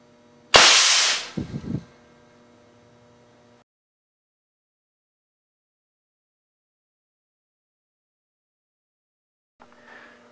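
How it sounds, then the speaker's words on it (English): A single sharp, loud blast from a 1-inch ball valve air cannon firing a 200 grain cast lead slug at 300 psi, followed by a short rattling echo, then near silence and a faint clatter at the end. "Continuing to shoot with the 1-inch ball valve cannon"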